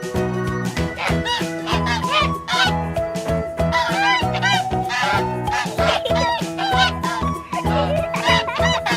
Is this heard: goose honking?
yes